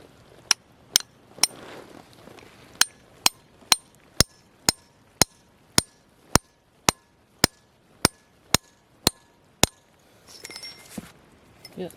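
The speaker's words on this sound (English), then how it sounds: "I'll keep on chipping at this little ledge here and see what else I could pull out of here" A hammer chips at a small rock ledge on a mountaintop while prospecting for sunstone, giving about twenty sharp, ringing metallic strikes in a steady rhythm, close and clear, with no talking.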